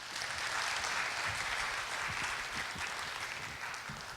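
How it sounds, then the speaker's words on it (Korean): Audience applause at a Korean information security conference welcoming a speaker to the stage, a steady wash of clapping sustained throughout with no voices over it. "그러면 박수로 우리 임종인 특보님을 모시도록 하겠습니다."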